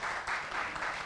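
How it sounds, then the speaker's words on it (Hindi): Audience applause for a DG at a university arts event, a steady dense wash of clapping that holds at even loudness through the brief moment. "एक बार जोरदार तालियां हो जाएं डीजी सर के लिए"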